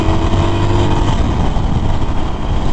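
A 2019 Harley-Davidson Forty-Eight Special pulls hard at full throttle, its loud, steady engine roar dense and continuous throughout, with a low tone that shifts slightly as it accelerates.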